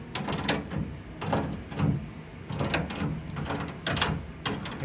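Jack being spun by hand to lower the suspension on a Ford Lightning pickup truck, repeated ratcheting metallic clicks in bursts, close and moderately loud, with no talking.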